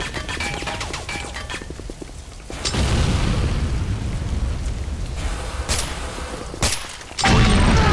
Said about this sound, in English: Nod Tiberium refinery destroyed.